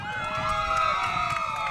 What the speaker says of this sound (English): You hear the crowd behind us starting to get loud